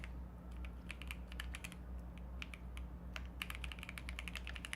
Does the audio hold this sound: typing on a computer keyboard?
yes